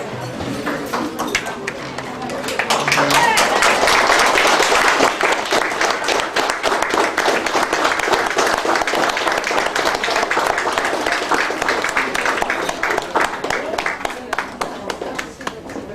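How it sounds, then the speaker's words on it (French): Applause for jubilarians at a 50th-anniversary mass, a dense crowd clapping that swells after a few seconds and holds steadily to the end, with some chatter mixed in. "Pour accueillir et applaudir nos jubilaires."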